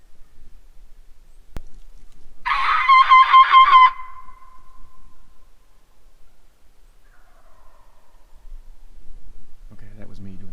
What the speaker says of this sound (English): I have before whistled real loud and they've gobbled.